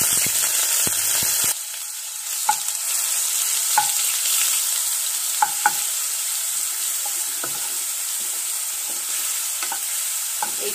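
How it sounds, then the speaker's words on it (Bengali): Half-pasted onion frying in a pan for a Bengali prawn malai curry, a steady bright sizzle with occasional soft scrapes and clinks of stirring, close and alone with no voices. "এই পেঁয়াজটাকে দিয়ে আমি একটুখানি ভেজে নেব পেঁয়াজটাকে, একটু হালকা ব্রাউন করে নেব পেঁয়াজটাকে"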